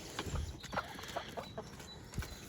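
Neighbors' backyard chickens cluck softly at close range, giving a few scattered low calls and short squawks against a quiet outdoor background.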